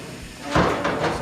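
Metal clamps are fitted onto a 1967 Mustang body panel, giving a dull clunk followed by a few handling knocks and rattles, all fairly close, with no talking.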